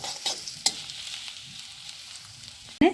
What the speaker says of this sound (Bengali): একদম মিহি মিহি করে কুচি করেছি সেটা দিয়ে দিচ্ছি আদা রসুনটা একটুখানি নেড়ে নেবো